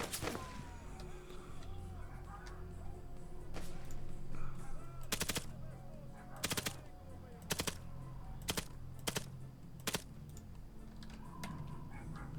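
Arma 3 gunfire in a STALKER-style bandit-hunting mod: separate loud bursts of rapid automatic shots over a steady low game ambience, with short pauses between bursts.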